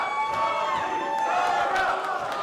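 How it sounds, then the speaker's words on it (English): A crowd at a women's professional wrestling championship match cheers and yells steadily, a dense, sustained roar of voices with mixed shouts rising through it, fairly loud and continuous. "crowd showing their support for both champion and challenger"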